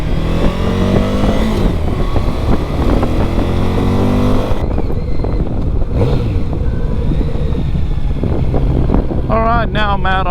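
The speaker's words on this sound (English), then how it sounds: "Let's hit the accelerator." A Kawasaki Z900 RS retro roadster motorcycle accelerates hard, its engine note rising through the gears with strong wind buffeting over the microphone, and a brief voice near the end.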